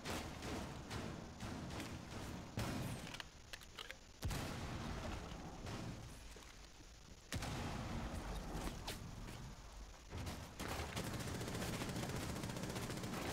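Dense, continuous gunfire in Rainbow Six Siege during a house team deathmatch hostage round, with overlapping bursts and impacts. Two sharp louder hits stand out over the steady clatter, and the whole clip is quiet.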